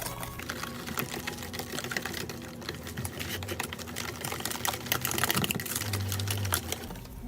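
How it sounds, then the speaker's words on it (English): A whisk beats eggs with buttermilk in a bowl for gluten-free cornbread, making quick, rhythmic clicking and tapping against the sides, close and steady, growing busier toward the end. "I'm going to get my whisk in there, break up those eggs"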